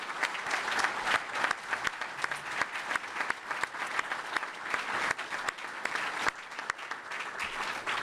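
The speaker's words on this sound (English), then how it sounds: "Can we just have a round of applause to the entire coaching staff?" A crowd at a San Jose State football press conference claps steadily and continuously, a dense patter of applause that holds at an even level throughout.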